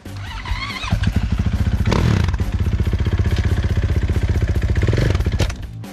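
A CFMoto 450MT trail motorcycle warms up on a trail-riding outing, its engine idling with a close, loud, steady thumping beat and a couple of brief revs before cutting out at the end.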